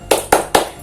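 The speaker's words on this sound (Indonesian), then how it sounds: "kita tepuk semangat terlebih dahulu yuk" A classroom group clapping routine led by a primary school teacher: three sharp, evenly spaced clap bursts close by, with no talk over them.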